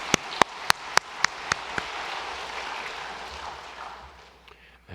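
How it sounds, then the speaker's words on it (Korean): A church congregation at a Sunday service breaks into broad applause after a few sharp opening claps, the clapping spreading into a steady wash that thins out toward the end. "힘내시라고 수고하셨다고 격려하면서 박수 한번 해주시기 바랍니다"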